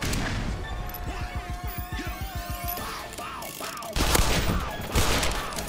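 Gunfire in the video game Black Mesa, with a rapid run of sharp, loud shots from a shotgun and other weapons, followed by crashing impacts and heavier blasts.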